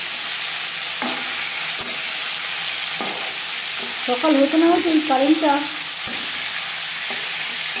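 Katla fish fries in hot oil for a light summer curry with ridge gourd and potato, a steady soft sizzle running beneath a woman's speech, with a few faint clinks and stirs.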